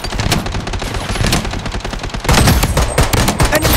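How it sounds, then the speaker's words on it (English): Automated defensive turret in the shooter Blood Strike fires sustained rapid bursts, loud and close, the barrage growing heavier partway through with dense overlapping shots. "Defensive turret activated."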